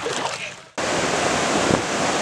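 Ocean waves rolling onto a beach shore: a softer wash gives way to a sudden loud, steady roar of surf mixed with wind buffeting the microphone, with no clear voices.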